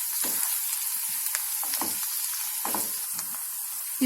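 Ginger garlic paste fries in a pan for boneless chicken masala with a continuous, bright hiss of sizzling. Soft scraping stirs surface now and then, and no one speaks.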